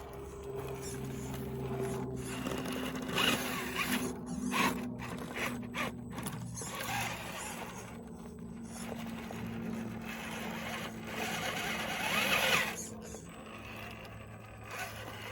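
An Axial Wraith 1.9 RC crawler on cheap tires grinds along outdoor trails, its motor and gears whirring and ratcheting in uneven surges, with scrapes and clicks as it climbs.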